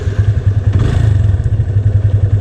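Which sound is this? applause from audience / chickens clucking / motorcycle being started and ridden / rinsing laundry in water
motorcycle being started and ridden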